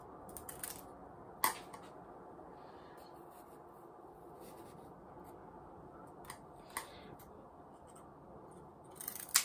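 Scissors snip through flower stems while a floral arrangement is made: a few sharp, quiet clicks scattered over a faint background, with a cluster of snips at the end.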